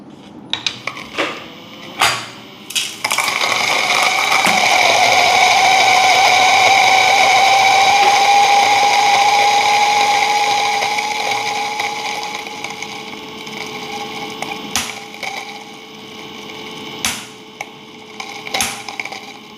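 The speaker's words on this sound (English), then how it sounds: "It takes much longer to grind, definitely, because now we are grinding the coffee bean a lot finer." A Timemore Sculptor 64S electric coffee grinder grinds medium roast Indonesian beans at a fine setting, a loud sustained motor whine lasting about ten seconds before winding down, framed by clicks and knocks of handling.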